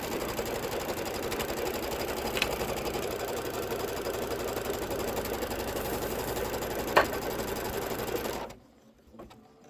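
A sewing machine sews a placement stitch through quilt batting, running steadily at speed with a dense mechanical whir, then stops abruptly near the end.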